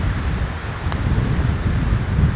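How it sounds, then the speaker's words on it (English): Steady wind gusts across a golf course at Tenterfield Golf Club, a loud continuous rumble against the microphone with no voices. "you want to allow for the wind"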